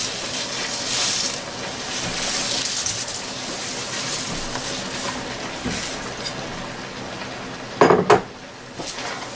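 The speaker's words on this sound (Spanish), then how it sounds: "Vamos a agregarle el arroz." Rice poured into a pan of shrimp and lobster paella and stirred through, a steady grainy rustle and scrape with a sharper burst of clatter near the end; no voices.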